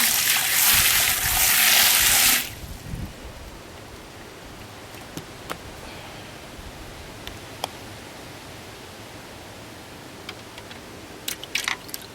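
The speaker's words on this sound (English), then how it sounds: "I'll just give this a sort of quick rinse" Running water rinses a smooth plastic part from an Eheim 2028 canister filter in a loud, steady gush for about two seconds. Quiet handling clicks and small knocks follow.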